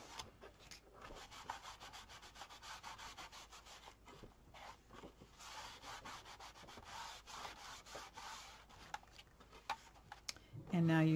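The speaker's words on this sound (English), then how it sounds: "And go ahead and burnish that down." Scored paper burnished flat with a hand tool while making a folio, a close, soft, repeated rubbing and scraping that runs steadily through the clip, ending with a brief low thump.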